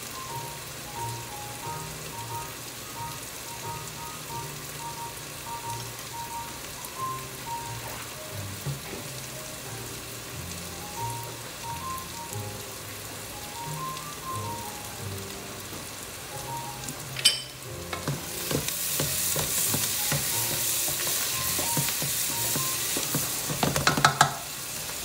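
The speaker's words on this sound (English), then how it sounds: "I'm going to have to boil these peppers." Bell peppers boil in a pot of water, a quiet steady bubbling under background music that gives way to a loud, busy hiss of rolling boil and sputtering toward the end.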